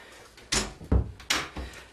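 A bedroom door is opened with a few close knocks and bumps, a handle rattle and a heavier thud as it swings, loud and near, with no talking.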